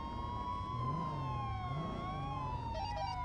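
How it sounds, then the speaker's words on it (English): Police car sirens in a video game wail continuously, with several sweeping tones overlapping at moderate volume over a low engine rumble. "Stop the sirens, please. Yeah, turn off the sirens, guys."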